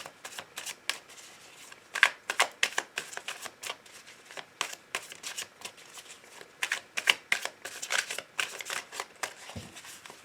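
Tarot cards being shuffled and cut, a quick run of crisp riffling flutters and slaps in bursts across the whole stretch, close and clear with no voice over them.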